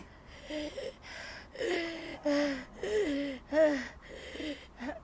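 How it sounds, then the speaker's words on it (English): A woman demonstrates heavy, labored breathing, a series of audible gasping and wheezing breaths in rhythmic bursts, close and fairly quiet, with no words spoken. "I still kept breathing like this."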